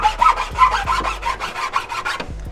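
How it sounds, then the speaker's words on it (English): Rhythmic back-and-forth sawing or rasping as a plastic fan shroud is trimmed on a 6.0 Powerstroke truck, close and loud, with about a dozen even strokes and no voices. "Doing a little fan shroud trimming."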